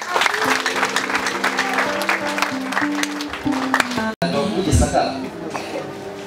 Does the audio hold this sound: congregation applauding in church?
yes